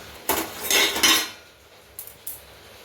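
A metal lid lifted off a pot of boiling tomato rasam, with a few close clattering clanks of metal on metal followed by two faint taps.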